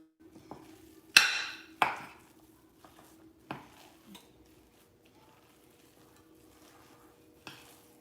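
A spoon stirs a pot of meatball sauce, scraping and clinking softly against the pot in a few irregular strokes, fairly quiet and close, with a faint low hum underneath.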